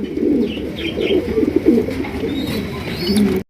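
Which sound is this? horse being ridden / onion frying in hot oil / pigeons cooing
pigeons cooing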